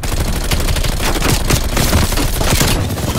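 Dense, loud automatic gunfire in a Call of Duty Black Ops Cold War multiplayer match, continuous rapid bursts with booming impacts filling the whole stretch, close and relentless.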